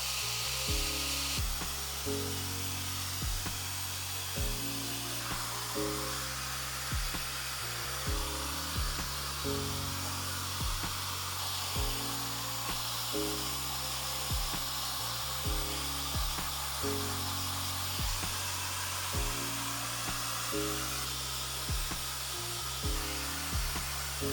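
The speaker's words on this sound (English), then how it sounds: "This hair dryer is extremely powerful, so high speed, my hair just blows everywhere" A steady, powerful hair dryer on high speed blows with a constant rushing whoosh beneath rhythmic background music.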